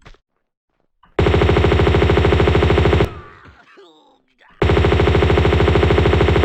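Rapid automatic gunfire in the video game Tomb Raider II, two loud sustained bursts of evenly spaced shots separated by a short pause with fading echo and softer game sounds.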